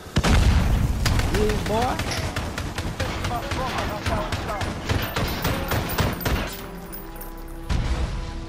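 Gunfire in Call of Duty: Modern Warfare realism mode, with dense, loud bursts of shots and impacts running through most of the clip under a voice talking.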